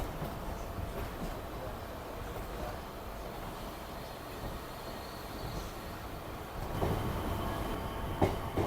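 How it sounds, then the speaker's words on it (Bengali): A Kolkata circular railway train rumbles along while turning left. The steady track noise is heard from on board and swells near the end with a few sharper clattering bursts. "আমাদের ট্রেনটা এই যে বাঁ দিকে টার্ন নিল"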